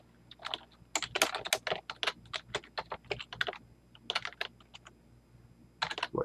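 Someone types a question on a computer keyboard in quick, uneven bursts of crisp key clicks, pausing briefly between runs, fairly close and quiet.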